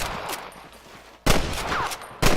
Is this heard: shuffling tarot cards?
no